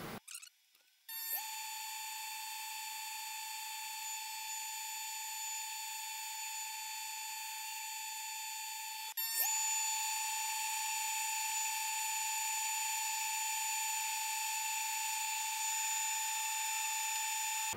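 A laser engraver etches a test pattern, producing a steady high electronic whine with sustained tonal hums that shift in pitch once partway through, continuous and fairly quiet, with no talk.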